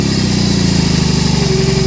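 A BMW R18 Classic cruiser's big boxer engine idles loud and close, a steady low throbbing pulse with even rhythm.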